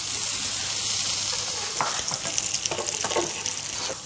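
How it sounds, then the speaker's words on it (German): Bacon and onions frying in fat in a pan, a steady loud sizzle throughout with scraping stirring sounds toward the end, no talking. "Und dann kommt als erstes der Speck in die Pfanne und in dem austretenden Speckfett werden"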